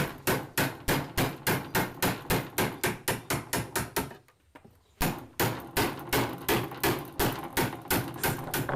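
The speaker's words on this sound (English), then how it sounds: "We are going to nail 1 inch nail to set it apart from each other so that no pest can enter into the hive." Someone hammers 1-inch nails into a wooden top-bar bee hive with rapid, regular, close blows. A short pause breaks the run before the steady rhythm of strikes resumes.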